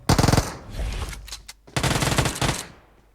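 Rapid automatic gunfire in the mobile battle-royale game PUBG Mobile: a loud, dense burst of shots, a brief pause, then a second sustained burst that cuts off abruptly, with no voices over it.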